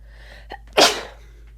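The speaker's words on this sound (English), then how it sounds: "I have to sneeze." A single loud sneeze up close, preceded by a quick sharp intake of breath, with a quiet steady hum underneath.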